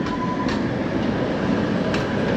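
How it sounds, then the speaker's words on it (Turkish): An old tram rumbles past steadily nearby on a street in Krasnodar, Russia, a broad continuous roar with faint metallic rail tones throughout. "Şöyle tramvayı da göstereyim. Birazcık eski bir tramvay ama güzel gözüküyor."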